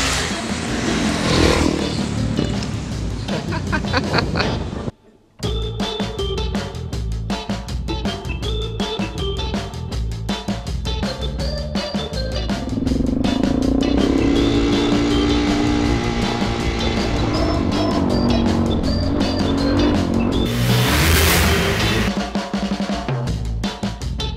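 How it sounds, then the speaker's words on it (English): Learner motorcycles, 250s and a 400, drone steadily nearby as they ride along the LA River, rising and falling, with a brief dropout and a louder revving surge later. "ride motorcycles in the LA River"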